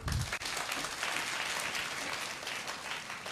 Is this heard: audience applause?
yes